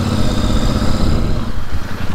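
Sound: Royal Enfield Super Meteor 650 motorcycle engine

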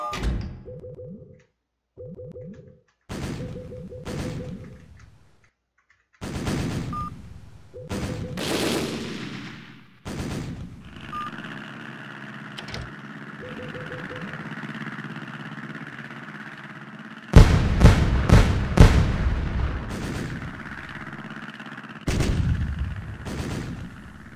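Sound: gunfire in Navyfield naval video game

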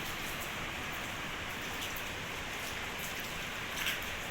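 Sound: rain falling in the mountains near Dharamshala

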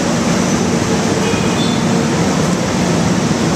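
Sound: MRT train at a Manila metro station

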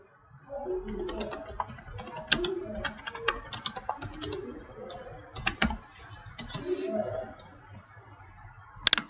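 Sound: typing a question on a computer keyboard

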